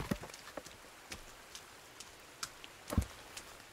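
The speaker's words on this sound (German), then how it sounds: "Es ist eh ein Sauwetter. Es regnet." Rain in the Sons of the Forest game, a faint soft patter of scattered drops with occasional louder splashes and knocks at irregular intervals.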